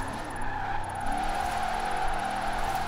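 A Bentley luxury saloon built for drifting in Forza Horizon 4 slides sideways with a steady, droning tire squeal over a constant engine hum, sustained and close throughout without a break.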